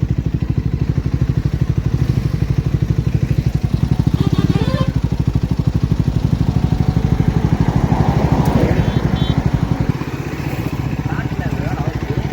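A Triumph Scrambler 400 motorcycle with a 398cc single engine runs steadily nearby, a loud, even rumble with a fast pulsing throb that holds throughout, while voices talk over it.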